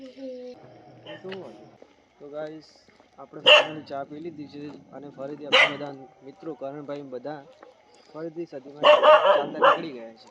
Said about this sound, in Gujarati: આપણને કૂતરો પણ ભસે છે